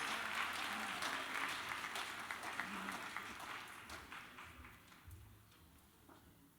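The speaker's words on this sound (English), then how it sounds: "Give her another round of applause." Awards audience applause, a steady broadband patter of many hands that starts full and gradually thins and fades toward the end, with no voices over it.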